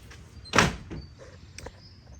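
A sliding door out to a backyard opens with a single scraping rumble up close, followed by faint rattles and small knocks, with no voices.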